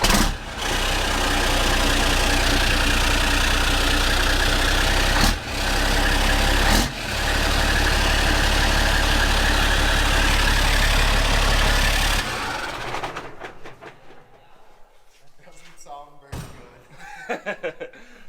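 A rebuilt Caterpillar diesel engine runs at a loud, steady idle, close by, for about twelve seconds, then cuts off into quieter background noise and a few clunks.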